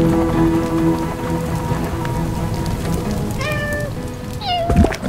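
A cat meows inside the video game Little Inferno, with two short rising-and-falling mews near the end over a steady rain-like crackle and music bed.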